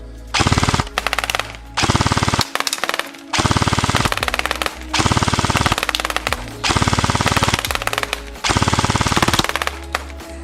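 Specna Arms SA-J06 Edge Aster V3 AK74 airsoft AEG firing outdoors in five long full-auto bursts of rapid mechanical clatter, loud and close, with short pauses between bursts.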